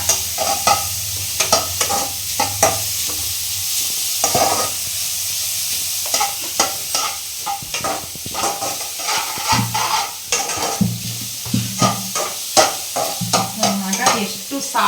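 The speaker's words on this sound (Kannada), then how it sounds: "ಒಂದು ಎರಡು ನಿಮಿಷ ಫ್ರೈ ಮಾಡ್ಕೊಳ್ಳಿ ಚೆನ್ನಾಗಿ ಅದಾದಮೇಲೆ ಮಾವಿನ ಏನು ಬಿಸಿಟ್ಟಿದ್ದೀವಲ್ಲ ಅದನ್ನು ಹಾಕೊಳ್ಳೋಣ" Something fries in a hot pan while being stirred hard, with chopped mango about to go in: bursts of spoon scraping and clattering over a continuous sizzle, close and loud, with no one speaking.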